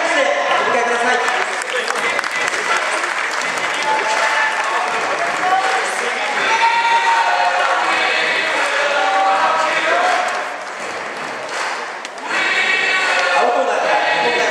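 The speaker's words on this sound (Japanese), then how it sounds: "場内の皆様、もう一度盛大な拍手でお迎えください。" Sustained applause fills a Japanese wrestling arena as competitors enter for a 2010 national championship freestyle 120 kg final, steady crowd clapping with a brief dip near the end, an announcer's voice heard over it.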